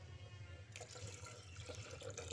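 Water poured from a bowl into lentils while cooking biuli dal makes a faint, soft splashing and trickling sound that starts partway through and continues to the end.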